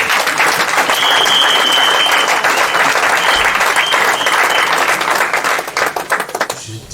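A church congregation applauds for its pastor with loud, dense clapping that holds steady for about six seconds before thinning out at the end.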